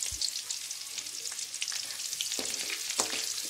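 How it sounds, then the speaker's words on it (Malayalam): Mustard seeds and onion fry in hot oil in a pan with a loud, steady sizzle. Sharp crackles and pops from the seeds and some stirring clatter run through it, with no voices. "ചട്ടി അടുപ്പത്ത് വെച്ച് എണ്ണയൊഴിച്ച് ചൂടായി വന്നിട്ടുണ്ട്. നമുക്കതിലേക്ക് കടുക് ചേർത്ത് കൊടുക്കാം, ഒപ്പം ഒരല്പം ഉള്ളി കൂടി ചേർക്കുക."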